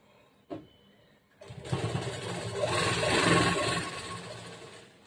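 A princess-cut blouse being stitched on a sewing machine, which whirs up after a single knock and runs in a steady, close mechanical drone for several seconds.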